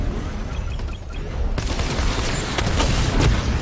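A level 2 missile barrage fires in Batman: Arkham Knight, a rapid burst of whooshing launches and booms that bursts in about halfway through and stays loud and dense, following a quieter mechanical hum.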